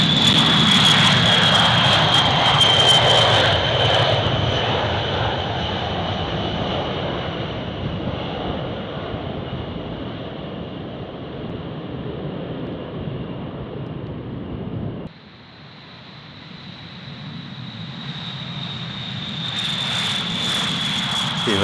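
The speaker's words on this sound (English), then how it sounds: "Here at Barksdale, the 2 bombers take off without a hitch." Two USAF B-52H strategic bombers taking off at Barksdale fill the air with a loud, continuous jet engine roar and a high whine. The roar eases briefly partway through, then builds again.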